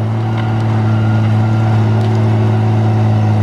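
Tigercat LX830D forestry machine with a 6.7 liter Cummins engine driving hydraulic pumps, running as a steady, loud, low drone with strong even hum throughout and no pauses.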